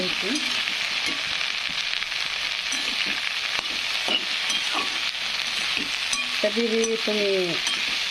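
Okra fries in a pan with turmeric and salt, a dense continuous sizzle close up, broken by rhythmic scraping and clattering stirring strokes throughout.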